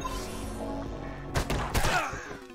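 Gunfire in the video game UnMetal: after a quieter stretch of game music, two sharp shots crack out close together in the second half, each a loud burst with a short ringing tail.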